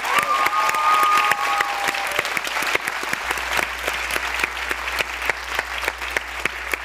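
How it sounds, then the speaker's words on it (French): A theatre audience at a student stage show applauds, individual claps sharp and close among the crowd, with a brief whistle-like tone early on and the clapping continuing steadily throughout. "je pense que vous méritez une bonne main d'applaudissements"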